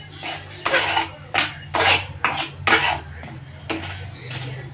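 A lid is set on a pan of sweet semolina shira, with a rapid run of close metallic clanks and scrapes of cookware, loud and uneven, followed by fainter rattling.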